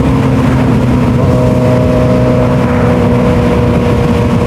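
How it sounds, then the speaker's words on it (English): A loud motorcycle engine drones continuously and close by, a rough, steady exhaust rumble with no break. "my exhaust is loud as shit"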